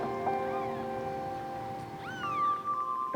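Newborn kittens, five of them, mew in thin rising and falling cries, close and fairly loud over a steady background hum, with one longer drawn-out call near the end.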